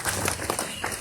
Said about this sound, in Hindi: अपने खुद के लिए ही तालियां।